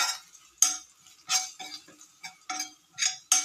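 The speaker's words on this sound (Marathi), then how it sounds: "लसणाचा पण कसा आवाज येतो बघा, तडतड तडतड तडतड लसूण होतो" Garlic frying in a pan for a simple baby-food recipe, a close sizzle breaking into sharp crackles and spits in uneven bursts, fairly quiet, with no voices.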